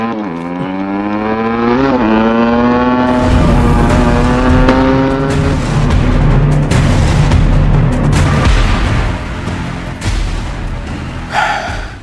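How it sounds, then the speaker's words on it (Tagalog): A motorcycle engine in a radio drama sound effect revs up in rising whines, then roars off loudly into a heavy, rumbling drive that fades near the end. "Ipakusgan ako ang pagpadagan ng motor."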